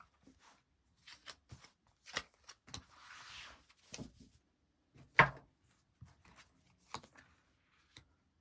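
Tarot cards are shuffled and drawn by hand up close, giving a run of soft slaps, flicks and papery sliding, brief and quiet with short pauses between.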